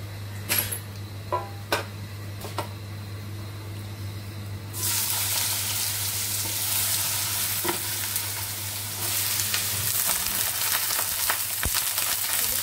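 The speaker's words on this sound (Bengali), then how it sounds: "আমি তেল দিয়ে দিচ্ছি, এখন আলু ভাজিটা দিয়ে দিব" Potato bhaji hits hot oil in a home kitchen. After a few clinks and taps, a loud, dense sizzle bursts in and keeps frying steadily over a low background hum.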